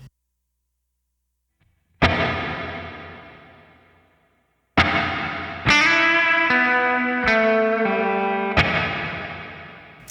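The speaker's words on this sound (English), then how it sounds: "here's what the hall sounds like big." Electric guitar played through a Line 6 Pod Express set to a big hall reverb. Isolated strummed chords bloom and decay slowly into a long wash, then a short melodic phrase of single notes rings out over the lingering reverb.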